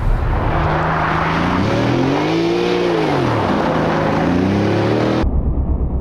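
A car drifting on winter tires, its engine revving and swooping up and down in pitch with a loud, close roar that holds steady before cutting off abruptly near the end.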